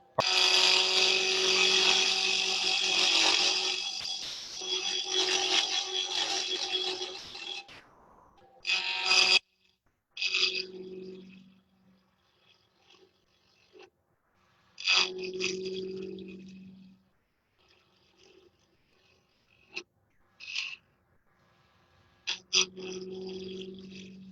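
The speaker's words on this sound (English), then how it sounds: "start rounding this off, and I'm just using the 3/8 inch spindle gouge." A woodturning lathe with a 3/8 inch spindle gouge rounding off a wooden hollow sphere ornament: a loud, steady, rasping cut for about eight seconds, then short bursts of scraping separated by quiet pauses.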